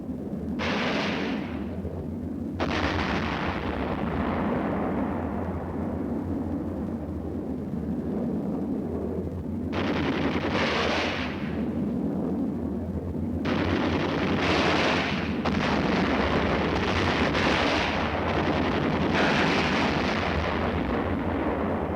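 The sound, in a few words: artillery fire and explosions, Korean War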